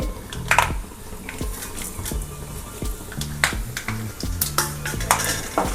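Spoon stirring rice with peanuts in a metal pan, giving a run of scraping, clinking strokes at close range with irregular rhythm and faint sizzling underneath.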